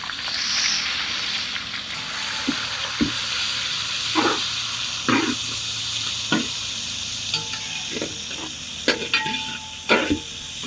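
Three to four big sliced onions sizzling in hot oil with dried chillies for a Haryana-style chicken curry, a continuous bright frying hiss with scattered pops and occasional stirring scrapes.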